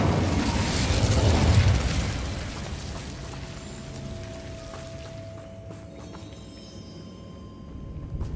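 An Incendio fire spell cast in Hogwarts Legacy bursts out as a loud, broad fiery blast in the first two seconds, then fades into a lower, lingering rumble with a faint sustained tone.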